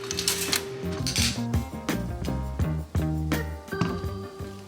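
A tablespoon clinking and scraping in a jar of Simple Truth almond butter, a cluster of bright metallic taps and rings close up, several quick knocks in irregular rhythm with no voice.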